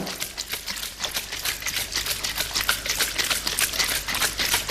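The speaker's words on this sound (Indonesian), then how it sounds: "kita kocok dulu 15 kali kanan dan 15 kali kiri" Hydrogen water tube being shaken back and forth repeatedly to mix in the gas, a continuous rapid rattling and sloshing with a steady rhythm throughout.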